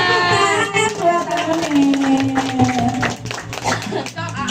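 Children at a sixth birthday party clap together, a dense, busy patter of handclaps with a sung or chanted tone and lively voices running through it.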